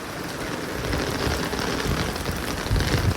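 Heavy rain pours down outside a building entrance, a loud, dense, continuous hiss and patter of drops on surfaces with no other sounds.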